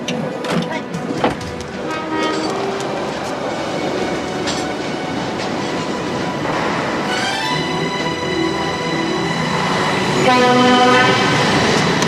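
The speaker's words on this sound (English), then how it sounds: "Train on platform 8 is about to depart." A train departing from a station platform rumbles and clatters along the tracks, rising slightly in loudness toward the end, with faint voices and an announcement tone nearby.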